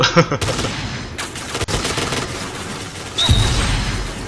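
Dense gunfire and explosions from the shooter game Point Blank, a rapid volley of loud close shots and blasts that stops briefly, then resumes as a heavy burst near the end.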